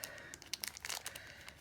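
A plastic mail package from AliExpress being opened, giving a brief burst of close crinkling and crackling plastic without any talk.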